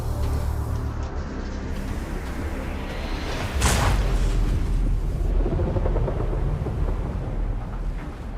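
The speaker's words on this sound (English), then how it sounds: "The explosion lit up the ocean." Torpedoes exploding against an ocean liner at sea: a deep, rumbling boom with a sharp burst partway through, then a sustained low roar that rolls on loudly without speech.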